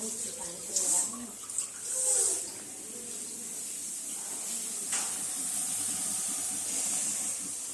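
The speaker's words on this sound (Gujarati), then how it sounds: "પાણી રેડવાનું મમ્મી અંદર" Water pours in a steady, hissing stream for several seconds, with a few voices talking briefly at the start.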